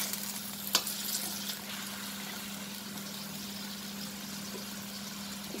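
Lamb stew simmering in a pot with light sauce and oyster sauce, a quiet, steady soft sizzle and bubbling hiss with a faint hum beneath and one brief clink early on.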